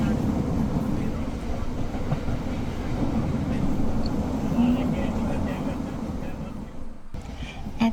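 A passenger train on the line from Galle toward Anuradhapura in Sri Lanka, heard from inside the carriage: a steady, close, continuous low rumble with faint higher rattles that runs without a break.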